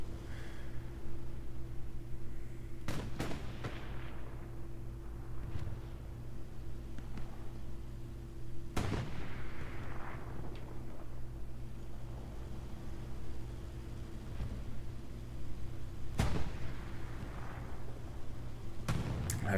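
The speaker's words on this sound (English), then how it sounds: "I was just launching shells into the wind." Artillery shells fire in Hell Let Loose, four or five sharp distant booms spaced several seconds apart over a low steady engine-like hum.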